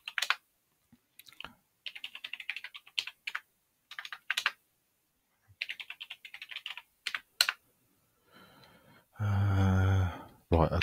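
Someone types commands on a computer keyboard while booting a freshly built Linux From Scratch system, with clustered bursts of close, clicky keystrokes separated by pauses and a brief louder noise near the end.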